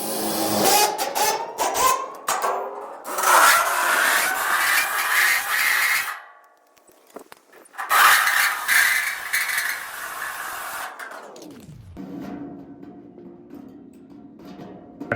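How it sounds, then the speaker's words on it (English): Coarse sandpaper rubbed back and forth over cut metal edges to knock off burrs left by a hole saw on a stock tank pool wall, a steady scratchy scraping in long strokes with a brief pause midway. "So I just took this low grit sandpaper just to kind of rub off some of the burrs."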